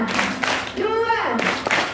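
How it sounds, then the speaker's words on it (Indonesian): A group, likely students at a school gathering, claps together on command, giving short sharp bursts of hand claps around a spoken instruction from a leader's voice. "sebelum itu semuanya tepuk satu"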